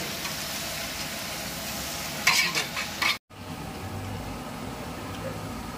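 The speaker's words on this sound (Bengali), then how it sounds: "এবার কড়াতে পেয়ে দেখো এই পেঁয়াজ দিয়ে দিলাম, কুচানো পেঁয়াজ 3 চামচ, নুন" Chopped onions frying with salt in a wok, a steady soft sizzle with a brief scraping stir partway through, quiet and without speech.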